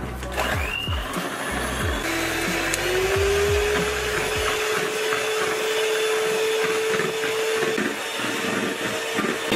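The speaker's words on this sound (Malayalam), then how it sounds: "ഇത് കുറച്ച് നേരം ബീറ്റ് ചെയ്താലാണ് നമ്മളെ കേക്ക് നന്നായിട്ട് പൊന്തുക" An electric hand mixer whirs steadily while beating eggs for cake batter, a loud continuous motor drone that shifts pitch as it settles into a sustained hum, with clattering bowl contact at the start.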